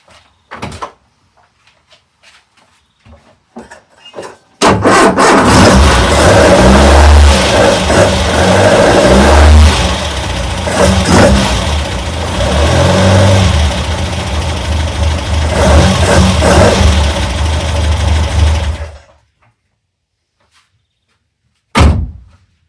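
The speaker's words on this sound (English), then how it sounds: "I'm just going to see if she goes" A Ford Escort Mk1 engine with an upgraded ignition cranks, catches and runs loudly with rises and falls in revs for about fourteen seconds before cutting off, with a brief knock or door sound afterward.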